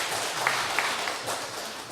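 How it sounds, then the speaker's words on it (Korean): A church congregation claps together in a soft, steady patter of applause, heard faint and somewhat distant, with a few sharper individual claps standing out. "은혜가 되실 땐 박수 치십시오"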